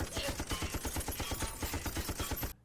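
Rapid automatic gunfire aboard a submarine in the film Gods of the Deep, a loud dense fusillade of evenly spaced shots over steady background noise that stops abruptly near the end.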